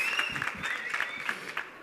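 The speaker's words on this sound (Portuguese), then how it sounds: "Uma salva de palmas para este senhor." Brief audience applause at a talk for a man who finished folding an origami plane, scattered clapping with a high whistle-like tone running over it.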